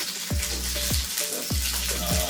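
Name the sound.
onions and rosemary frying in oil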